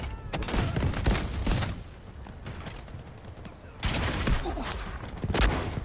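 Loud bursts of automatic gunfire in the shooter Delta Force, two clusters of rapid shots separated by a quieter stretch, close and sharp.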